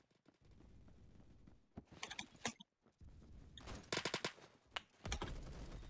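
Video game gunfire in a first-person shooter, bursts of rapid automatic shots and sharp cracks coming in clusters against a low background rumble, fairly close and punchy, with no talking.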